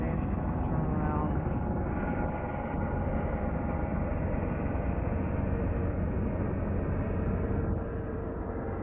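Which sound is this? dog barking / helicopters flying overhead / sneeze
helicopters flying overhead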